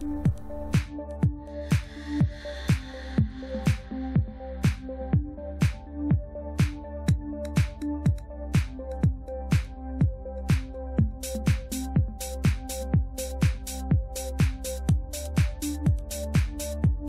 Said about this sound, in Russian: Пробирку закрываем пальцем и встряхиваем до тех пор, пока черви равномерно не распределятся в воде.